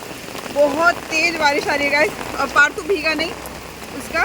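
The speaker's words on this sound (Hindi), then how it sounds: "बहुत तेज़ बारिश आ रही है गाइस" Heavy rain pours down in Mumbai as a steady broadband hiss beneath someone talking close to the microphone throughout.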